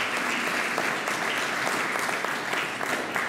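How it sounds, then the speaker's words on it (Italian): An audience at the 2019 Panettieri living nativity gives a sustained round of applause, dense and even clapping that holds steady throughout with no voices over it. "Facciamo un applauso"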